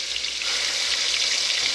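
Sofrito in a hot pan gives off a steady, bright sizzle while being stirred, loud and close with no pauses for the whole brief moment.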